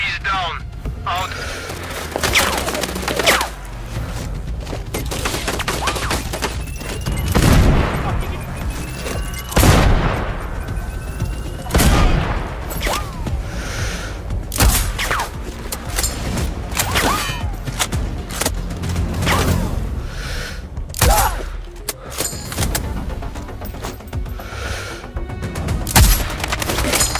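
Gunfire rings out in Sniper Ghost Warrior Contracts 2: repeated sharp shots and booms scattered unevenly over a long stretch of game ambience, some loud and close, with voices speaking at times.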